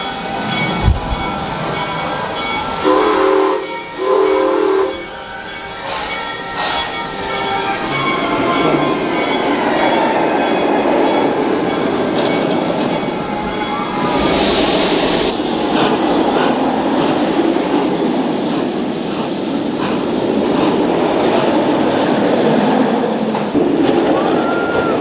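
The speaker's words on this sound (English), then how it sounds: "Really smell that steam engine." A steam engine train at Busch Gardens runs along its rails, a steady rumbling roll with rattling and occasional squealing wheels that holds at an even, fairly loud level throughout.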